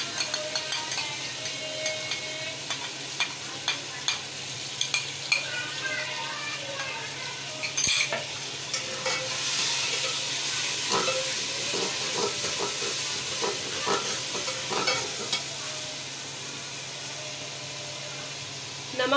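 Ground green chilies being stirred into frying yakhni pulao in a pot. A steady, close sizzle carries on throughout, broken by repeated scraping and knocking as the mixture is stirred.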